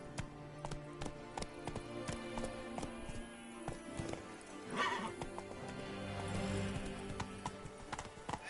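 Roach the horse in The Witcher 3 trotting with steady, close clip-clopping hooves, a whinny rising near the middle over faint game ambience.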